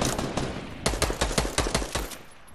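Rapid bursts of automatic gunfire in Fortnite, a fast rhythmic string of sharp, loud shots close by, briefly pausing before resuming in an even volley that fades slightly at the end.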